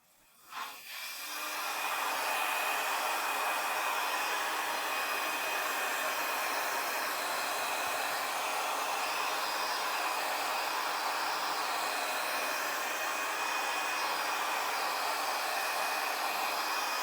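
A handheld dryer blows a steady, even rush of air across an alcohol ink and epoxy resin rose painting, starting with a short click and then running continuously without a break.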